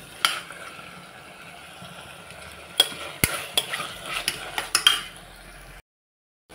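Onions and tomatoes sauté in a pan for baby jackfruit biryani, a steady sizzle broken by scraping stirs and clinks of a metal spoon against the pot, close and alone, ending in a brief silence.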